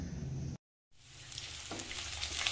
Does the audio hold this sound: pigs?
no